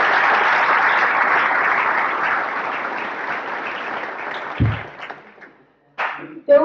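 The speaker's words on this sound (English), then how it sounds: "Let's give him a round of applause." An audience at a library author event claps together in a full round of applause that gradually thins and fades, followed by a few scattered thumps and handling noises near the end.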